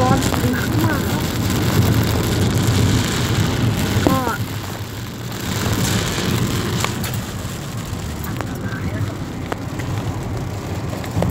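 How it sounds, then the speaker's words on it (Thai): Heavy afternoon storm rain pours in Udon Thani, a dense, steady roaring hiss that fills the whole stretch while someone speaks briefly over it. "วันนี้พายุที่อุดรหนักมากครับ"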